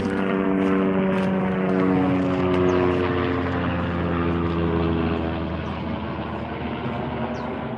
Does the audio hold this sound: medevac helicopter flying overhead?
yes